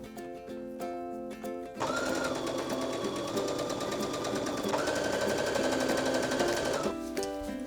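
A sewing machine stitches a drawstring casing onto a summer garment, running in one long steady whirring burst that starts abruptly and holds at a constant speed, close and clear with no talking.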